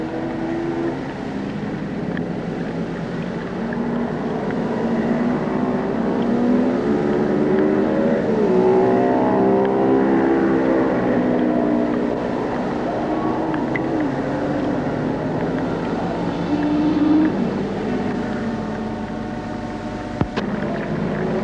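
Yamaha XJ750 racing motorcycles in the 750cc class of a 6-hour endurance race, engines howling continuously with rising and falling pitch as bikes pass, steady loud drone with no talk.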